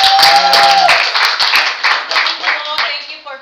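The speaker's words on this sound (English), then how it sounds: "So let's go ahead and give her a round of applause." A round of applause from an audience at a speaking event, with distinct individual claps building then thinning out, a voice briefly heard near the start and some talk underneath.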